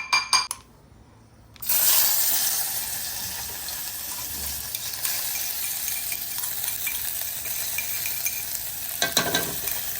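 Ginger garlic paste hits hot oil in a pan with a sharp burst of sizzling that settles into a steady, close frying hiss, with a few clinks of utensil on the pan near the start and again near the end.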